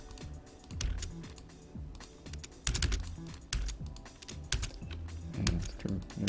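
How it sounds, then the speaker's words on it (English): A trim command being typed into AutoCAD on a computer keyboard: a rapid, busy clatter of keystrokes with several louder sharp hits, close and continuous over a faint background hum. "and then I can type trim"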